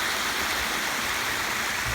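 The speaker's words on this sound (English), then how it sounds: "The water's babbling down." Water from a pondless waterfall, fed by two pumps and edged with rocks, tumbles down in a continuous, even rushing wash, close and steady without pause or voices.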